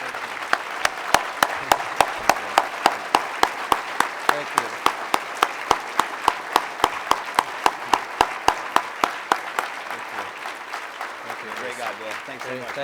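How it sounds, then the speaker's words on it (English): Steady, rhythmic clapping at a farm rescue charity banquet, individual sharp claps in an even beat over a soft crowd bed, continuing for about ten seconds before fading. "Big round of applause for Mr."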